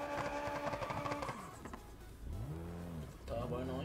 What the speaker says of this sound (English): Turbo noise.